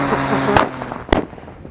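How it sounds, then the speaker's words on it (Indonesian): Two lotus firecrackers lit at the same time go off in two sharp, loud bangs about half a second apart, each followed by a crackling, fizzing tail. "yang kita nyalakan di sini ada mercon teratai tor. Kita nyalakan 2 sekaligus."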